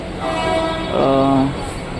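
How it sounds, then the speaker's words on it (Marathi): A local train pulls into Goregaon station, its rumble rising and a loud, sustained multi-tone horn blaring midway through the arrival. "हे बघा मित्रांनो गाडी आता आलेली आहे समोर"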